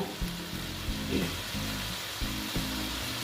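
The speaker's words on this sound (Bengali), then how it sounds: "স্টিমটা বাড়িয়ে দিলাম দিয়ে পটল আর সয়াবিনটা কষিয়ে নেব" Pointed gourd and soybean chunks sautéing in a hot pan, a steady close sizzle and frying hiss with occasional soft stirring scrapes, loud and continuous with no talk.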